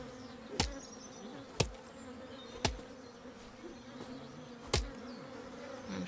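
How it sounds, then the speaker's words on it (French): Bees buzz in a steady, droning hum in the video game Chop Chop Inc., with a few sharp clicks at regular intervals over the constant insect drone. "J'ai envie de casser aussi là-bas les abeilles pour voir."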